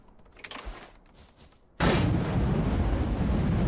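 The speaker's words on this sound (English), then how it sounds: "I do want to blow this up though." A loud explosion in the video game Dysmantle erupts suddenly after a quieter stretch, then a sustained heavy roar and rumble continue to the end.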